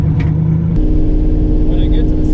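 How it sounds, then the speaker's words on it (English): A turbocharged V8 engine swapped into a Mazda RX-7 runs at a steady, close, low rumble, with a shift in tone partway through and voices talking over it. "All right, car's on."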